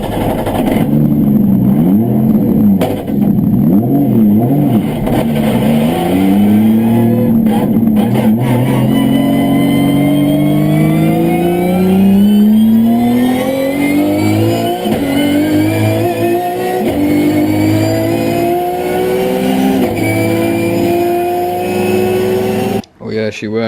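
A car fitted with a new roll cage, out on a test drive. Its engine revs loud and close, climbing and falling through the gears with a sustained, rising drone that almost never stops, then cuts off abruptly at the end.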